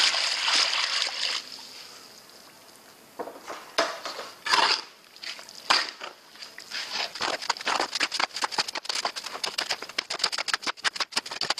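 Water pours and splashes into a trough of sand and cement for mortar mixing, heard up close as a continuous splatter, followed by quick clattering scrapes and sloshes.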